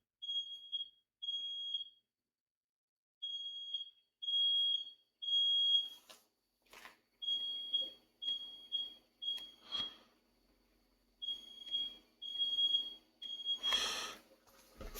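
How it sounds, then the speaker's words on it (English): A smoke alarm chirps in short, steady bursts of rapid beeps, loud and close, with brief pauses between groups and scattered clatter and rustling in the room. "Freaking fire alarm."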